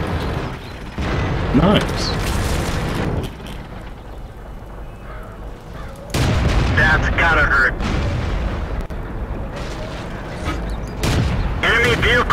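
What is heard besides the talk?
tank cannon fire and explosions in World of Tanks video game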